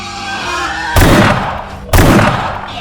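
Two loud gunshots ring out about a second apart during a wild boar hunt, each a sharp blast followed by a fading echo.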